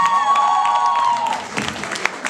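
A beatbox show audience in Minsk claps and cheers to welcome beatboxer Evgeny Bondar, a crowd sound whose scattered sharper claps stand out after a brief stretch of voice.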